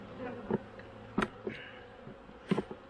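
Honeybees buzz around an open hive during a robbing frenzy, a low steady hum broken by a few brief, close passes of individual bees.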